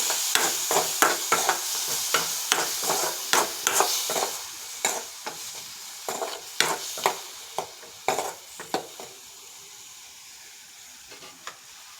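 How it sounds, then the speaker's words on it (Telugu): Tomato, coriander and onion are stirred in a pan for an onion-tomato chutney: a steady run of scraping spoon strokes over a soft sizzle, close and fairly loud, thinning to a quiet fry near the end. "టమాటా కొత్తిమీర కూడా వేస్తున్నాను. ఒకసారి బాగా కలుపుకుందాం."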